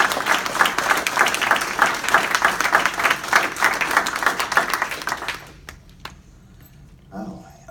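Audience applause at an EXIT Realty Achieve agents' gathering, a dense, steady round of clapping from a room of people that continues for about five seconds and then quickly dies away to near silence with a few stray claps.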